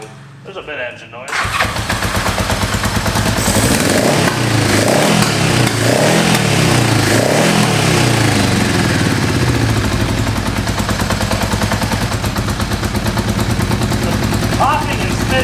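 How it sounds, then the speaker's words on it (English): An old Honda motorcycle, flooded for decades, fires up with a rough start, then settles into a loud, uneven running engine with repeated popping and spitting from a misfiring cylinder. "Popping and spitting is probably that last cylinder somehow trying to run."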